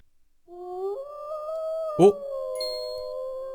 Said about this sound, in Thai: เราแมวน้ำหอนครับ